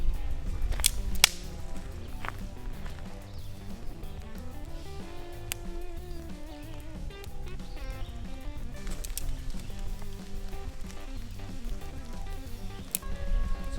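Wet dead wood sticks snap and crack as a teepee fire lay is built in the rain, with sharp close snaps scattered irregularly over quieter rustling and handling of twigs.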